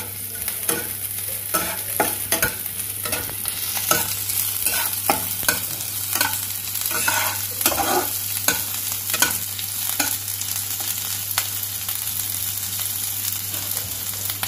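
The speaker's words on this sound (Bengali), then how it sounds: "এখন আমি আমার চপড লঙ্কাগুলো দিয়ে দেব।" Chopped chillies sizzle with translucent onions in a pan, a steady close frying hiss broken by repeated scraping stirs throughout, with no talking.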